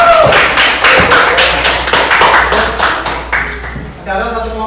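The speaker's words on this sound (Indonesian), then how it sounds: "Oke, kita beri aplaus untuk kelompok 1" Classroom audience applauding a student group after a presentation, a burst of close, loud overlapping claps that gradually thins out, with a voice beginning to speak at the end.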